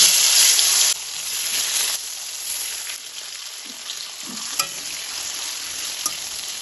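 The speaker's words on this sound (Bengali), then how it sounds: "এখন আমি এই তেলের মধ্যে 1/2 চামচ কালো জিরে আর 2টো শুকনো লঙ্কা ফোড়ন দিয়ে দিলাম" Black cumin and dried red chillies temper in hot oil with a steady sizzling hiss, louder for the first second and then settling into a softer crackle with occasional stirring clicks.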